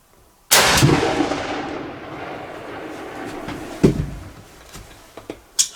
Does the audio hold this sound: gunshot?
yes